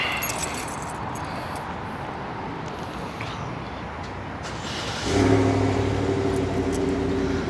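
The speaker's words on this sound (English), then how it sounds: "Let me turn on my truck real quick. You heard?" Quiet outdoor hum in Houston, then around the midpoint a pickup truck engine turns over and settles into a steady low idle nearby.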